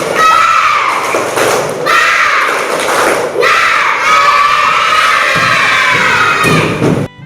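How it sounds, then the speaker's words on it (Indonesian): A classroom of fourth-grade schoolchildren claps and chants a spirit cheer together, loud and continuous, with rhythmic group claps under young voices shouting in unison. "Ayo semuanya tepuk semangat."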